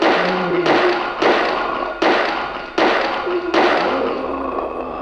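Repeated heavy stabbing thuds from an enemy attacking the player in Silent Hill, about six sharp loud blows in an uneven rhythm, each decaying into a gritty rumble, with no talk over them.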